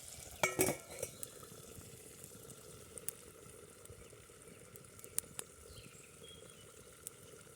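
Chicken legs sizzle softly in a pan on a camp stove in a forest, with a few sharp metallic clinks of a utensil against the cookware early on and scattered knocks later.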